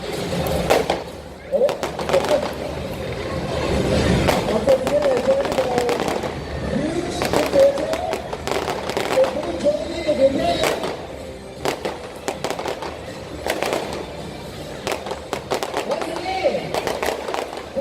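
Fireworks crack and pop in sharp bursts at a Chinatown Mid-Autumn Festival light-up opening ceremony, irregular and fairly close, with a crowd and talking underneath.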